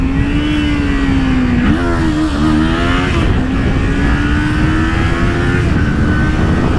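A 2018 Kawasaki Ninja 400 ABS motorcycle revs hard on a racetrack as it accelerates into a wheelie, its steady engine tone rising, dipping briefly at a gear change, then climbing again, loud and close throughout.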